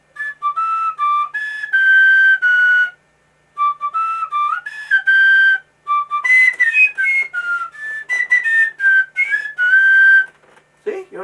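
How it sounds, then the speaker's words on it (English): Tin whistle played somewhat unsteadily, shrill piping notes in short melodic phrases with brief pauses between, loud and close, no talking over it. "I'm not very proficient at the tin whistle"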